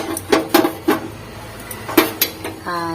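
Stirring a homemade soap mixture in a pot gives several sharp metallic clinks and scrapes in an irregular rhythm, close and fairly loud, with a short humming tone at the end.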